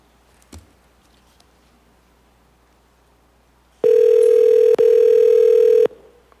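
A steady telephone dial tone sounds for about two seconds with a brief break, loud and clear, on a phone line calling in to a legislative assembly hearing; quiet room noise before it.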